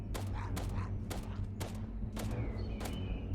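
Pistol gunfire in a Minecraft game set in abandoned Los Angeles: seven sharp shots spaced roughly half a second apart, over a steady background hum and game ambience.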